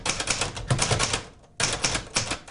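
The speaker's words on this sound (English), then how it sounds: "one of 4 which Ben has managed to hammer out on his antiquated typewriter" An antiquated typewriter clatters under steady typing, dense bursts of key strikes in quick runs, broken by a short pause before the rapid tapping resumes, close and clear.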